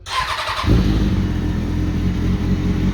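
A Kawasaki ZX-6R sport bike, in a garage during a clutch replacement, starts up with the clutch lever pulled: a short starter whir, then the engine catches and settles into a loud, steady, close idle.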